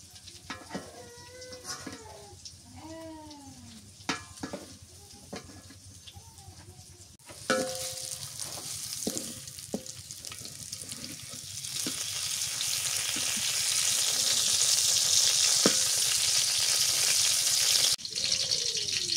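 Sliced pointed gourd (potol) frying in a pan in a village kitchen, with chirping tones and scattered clinks at first, then a broad sizzle that swells and grows steadily louder toward the end.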